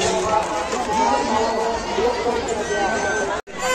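A dense crowd at the Murma fair, a continuous loud babble of many voices and chatter close around, with a brief dropout near the end.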